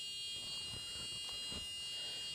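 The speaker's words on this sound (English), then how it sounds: "That alarm went off in the closet" An alarm sounds steadily from inside a closet in a house, a continuous high-pitched tone held throughout at a moderate, even level, with a few soft bumps and thuds underneath.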